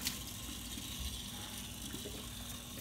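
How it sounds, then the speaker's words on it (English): Warm water runs steadily from a tap during a dog's bath, a faint, continuous splashing hiss with a few soft knocks and no talk. "Nice warm water."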